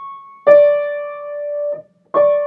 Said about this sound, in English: That's a descending melodic diminished octave there.